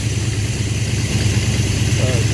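A car engine fitted with a Thermoquad carburetor idles steadily on fast idle as it warms up, a close, loud, even rumble with no changes in pitch.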